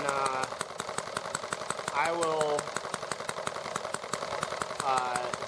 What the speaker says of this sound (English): do some carburetor adjustments while the engine is running